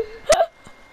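A voice imitating a cartoon character's belch: one short, close, croaky burp-like sound with a faint trailing breath after it.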